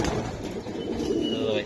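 Pigeons kept for sale coo in soft, low repeated calls close by, with a few faint chirps mixed in over a busy background, and people talk nearby.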